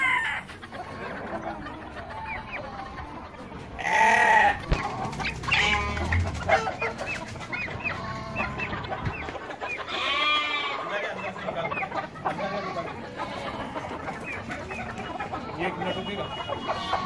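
Hens on a goat and poultry farm cluck and squawk at close range, with bursts of louder calls amid a steady farmyard clamour, and someone speaks at times.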